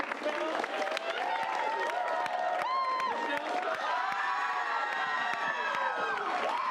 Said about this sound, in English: let's start that applause